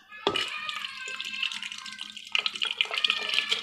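Water is poured into a kitchen grinder jar holding moong dal, a splashing trickle that starts abruptly and continues with gurgling and clinking, louder toward the end.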